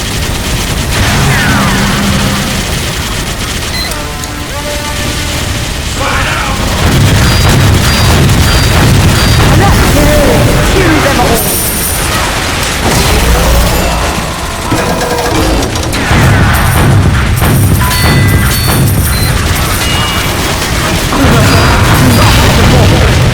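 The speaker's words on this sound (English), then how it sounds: "They deploy the bomb, all is lost!" Bomb deployment in Team Fortress 2 plays out amid loud, dense combat: heavy booms, crashes and rapid gunfire bursts layered continuously.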